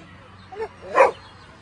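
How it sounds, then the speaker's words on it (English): A dog gives two short barks or yips close by, a brief soft one followed by a louder one, over quiet outdoor background. "Look at the cute dog."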